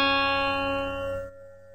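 The high string of a six-string guitar is plucked once and rings as a clear sustained tone, fading gradually and dropping off near the end, with no voices.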